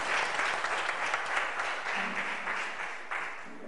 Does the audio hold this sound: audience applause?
yes